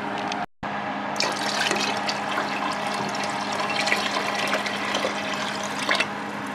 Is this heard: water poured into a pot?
yes